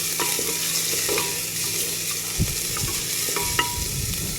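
Onions and green chillies sizzle and hiss in a hot pan as a spoon stirs them, with a steady frying crackle broken by a few sharper scrapes and clinks.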